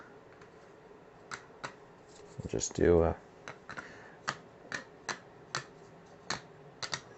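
Plastic board game tiles shuffled and clacking on a table during a solo Overboss session, a brief rattling burst amid scattered sharp taps, with a voice speaking briefly over it.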